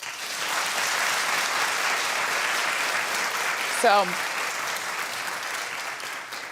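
Sustained audience clapping, loud and dense, continues throughout, with a short spoken word breaking through near the end before the applause tapers off slightly.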